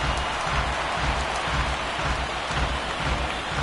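Baseball stadium crowd in MLB The Show 19 cheers and claps in a continuous dense wash of noise, loud and steady throughout.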